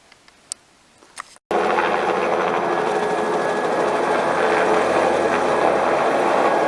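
A helicopter flies over a quiet mountain backcountry spot in the White Mountains, starting abruptly as a steady, loud rotor and engine drone that holds without a break after a few faint clicks.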